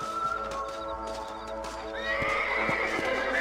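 Horse in the Red Dead Redemption video game whinnies loudly while hooves clip-clop in a slow, steady rhythm, with a soft ambient backdrop.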